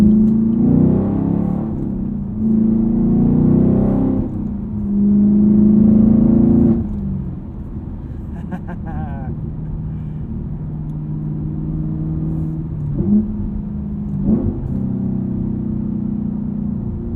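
A 6.2 liter V8 car engine in a video game revs up and down in several loud surges, then settles into a steady rumbling idle with occasional short blips.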